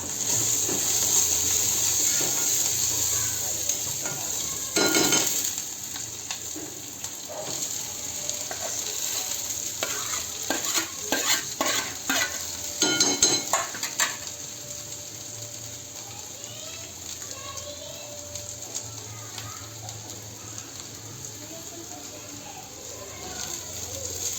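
Misal curry stirred in a pan rattles with a burst of quick metallic scrapes and clacks from a spoon in the middle, over a faint background hiss and hum.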